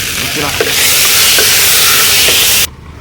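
Onions and tomato sauté for goat leg soup, a loud, close frying sizzle with occasional stirring scrapes that cuts off abruptly near the end, no talking.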